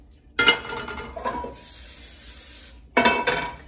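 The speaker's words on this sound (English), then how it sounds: "The first thing I'm going to do is spray my WW skillets" Pans clatter, then a steady high hiss of aerosol cooking spray onto a skillet lasts over a second before more clinking of cookware resumes.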